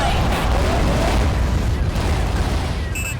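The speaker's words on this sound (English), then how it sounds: "firing mortars too" Booming mortar fire in the underwater combat game AquaNox, a dense, continuous low rumble of blasts filling the whole stretch, loud and close, with a brief electronic tone near the end.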